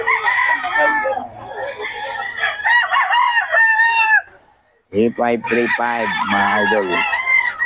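Gamefowl rooster crowing repeatedly in loud, near bursts, one call after another, with a brief pause before a fresh round of crowing; someone talks over the calls.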